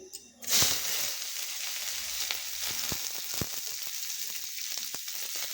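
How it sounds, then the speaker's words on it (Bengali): Chopped onion dropped into hot oil in a pan after dried chillies, a sharp burst of sizzle at the start that settles into a steady close frying hiss with occasional clicks of stirring. "এবার একটা বড় সাইজের পেঁয়াজ কুচি ভেজে নিচ্ছি।"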